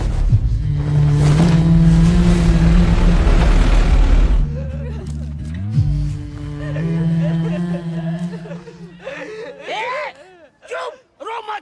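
A tractor engine rumbles loudly and steadily as it drives away, then cuts off, after which distressed voices groan and wail.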